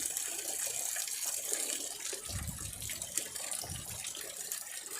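Water flowing down a century-old cascade through two or three small ponds on its way to a main pond, a steady rushing and gushing that fills the whole clip at close range, with no talking.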